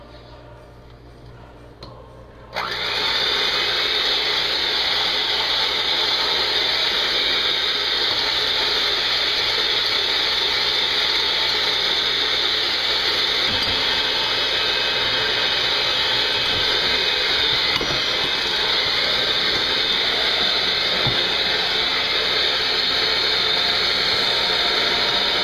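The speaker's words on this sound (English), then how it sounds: "switch over to your standard beaters and turn the mixer up" An electric mixer beats a sugar mixture, kicking in after a brief quiet moment as a loud, steady whirring hum that holds for over twenty seconds.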